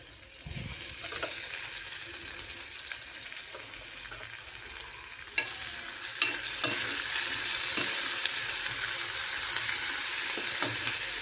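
Tomatoes tossed into a hot pan for a home-cooked Marathi ridge gourd curry give a steady loud sizzle with scraping stirs, the frying growing stronger and continuing to the end.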